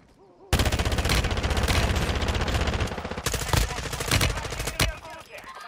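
Dense, rapid automatic gunfire from a Call of Duty Warzone II match fills most of the stretch, loud and close, with a few sharper single shot bursts near the end.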